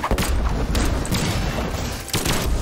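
Guns fire in the fighting game Brawlhalla, dense, punchy booming shots and thuds in quick succession with a few sharper bursts, loud and close over a busy game background.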